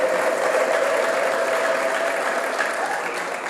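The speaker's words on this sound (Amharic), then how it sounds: "ታላቅ እልልታ ጭብጨባ ለንጉሱ ክብር።" A church congregation bursts into dense, steady applause with ululation, a continuous loud roar of many clapping hands holding evenly throughout.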